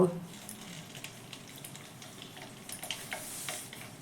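A raw green mango dropped into lightly heated oil, giving a soft, quiet sizzle with faint bubbling and crackle that swells a little toward the end, heard up close.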